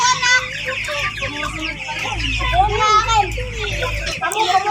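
Farm chickens cluck in a steady chatter from several birds, with small chicks among them, close by over a low rumbling background.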